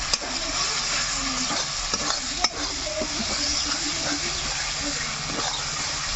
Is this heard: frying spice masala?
yes